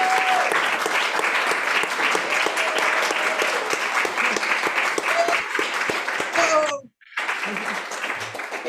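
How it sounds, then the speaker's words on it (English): Audience at a salon event applauds steadily and loudly for investors and contributors, a dense sustained wash of clapping that cuts off abruptly near the end before resuming more thinly. "let's please give them a huge round of applause"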